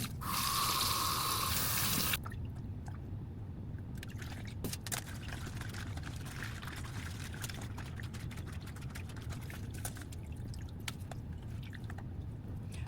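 A wet stage suit being wrung out in a basin of water, with soft squishing, dripping and trickling close by after a brief rush of pouring at the start, and no talk.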